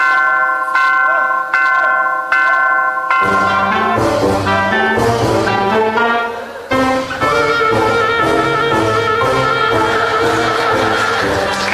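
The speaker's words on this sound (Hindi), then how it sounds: "घंटा तो बज गया" A bell rings loudly with bright, sustained chiming strikes for about three seconds, then gives way to a busier run of ringing tones that carries on to the end without pause.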